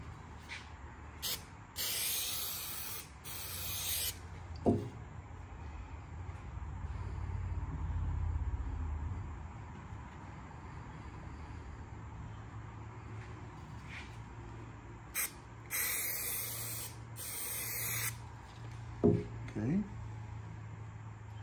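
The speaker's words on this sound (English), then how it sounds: "Now, the rails are sprayed to the top and bottom." An aerosol can sprays adhesive onto the rails of a Valley pool table in several bursts of loud hiss separated by pauses, with low background noise throughout.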